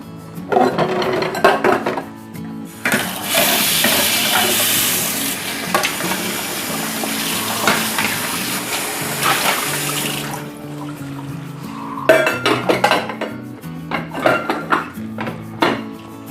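Steady rush of running water from a tap for several seconds, with clinks and splashes of dishes being rinsed before and after, close and fairly loud.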